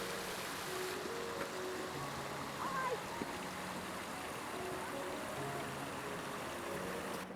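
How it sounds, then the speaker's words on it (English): Water from a waterfall on open moorland rushes in a steady, soft, distant wash throughout, faint and even, with no clear talking. "I like the waterfall from this viewpoint, with the open moorland in the background"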